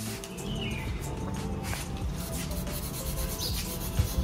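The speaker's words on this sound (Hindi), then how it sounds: "हम लोग इस पर ब्रश मार सकते हैं फ्रंट एंड बैक" A brush scrubs dust off an ASIC crypto miner hashboard, making a continuous rough rubbing and scratching close by, steady for several seconds with a few faint high squeaks on top.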